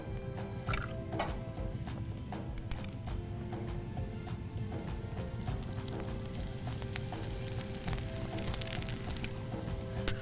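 Thalipeeth made with pumpkin fries in oil on a pan, giving a soft steady sizzle with scattered small crackles and pops at a moderate, even level.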